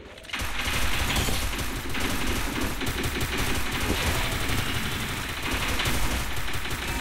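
Rapid sustained gunfire in Free Fire Clash Squad, dense automatic bursts rattling almost nonstop for several seconds, loud and close, with no talk over it.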